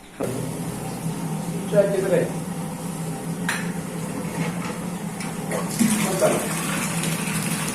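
Steady rushing well water runs from a motor-fed tap throughout, pumped directly without a tank, with a low mechanical hum and a few clinks beneath it.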